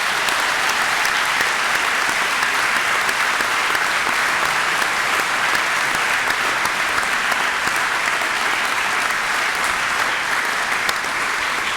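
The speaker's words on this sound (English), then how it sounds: "So a big round of applause," A large audience in a hall at a university graduation ceremony claps continuously, a dense, even roar of applause that neither builds nor fades, with no voices on top.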